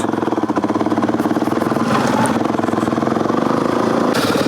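Engines of a 2010 KTM530 and a 2018 DRZ400 dirt bike run steadily during a sandy forest ride, a loud continuous pulsing drone with a slight swell partway through.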